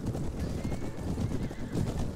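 A horse in the Mount and Blade: Warband video game neighs over steady clip-clopping hooves in a battle, a continuous dense mix of galloping thuds with whinnies rising on top.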